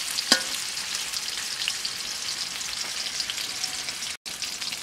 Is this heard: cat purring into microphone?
no